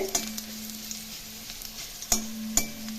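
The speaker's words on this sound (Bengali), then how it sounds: "তেলের মধ্যে শুকনো লঙ্কা কালো জিরে ফোড়ন দিলাম ফোড়ন একটু ভালো করে ভেজে নিতে হবে" Dry red chilies and nigella seeds crackle and sizzle in hot oil with a steady hiss, broken by a few sharp pops and stirring clinks.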